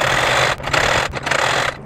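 A sewing machine stitches cloth for a Sikh kachhera, running in a steady loud whir that pauses briefly twice and then resumes.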